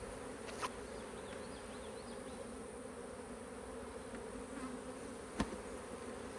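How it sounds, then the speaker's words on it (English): A steady, continuous buzz of many honeybees around a hive in a beeyard, with an occasional louder pass close by and a sharp tap near the end. "see all these bees flying"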